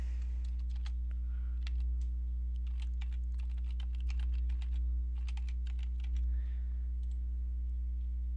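Typing a password on a computer keyboard, quick bursts of light key clicks in short clusters with pauses between, close over a steady low electrical hum.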